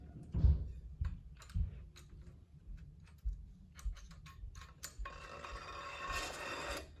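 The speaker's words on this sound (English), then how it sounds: "go ahead and give it a tighten down there" Tightening down a part on a cheap bike being upgraded: a run of small, close mechanical clicks and knocks, with a heavier thump near the start and a steadier rattling stretch toward the end, no voices.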